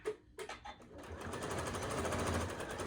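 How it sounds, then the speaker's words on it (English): Sewing machine back stitching quilt fabric along a high-stress edge, a steady, close, continuous mechanical whir that starts after a few short bursts and runs on alone. "we're going to back stitch good on there"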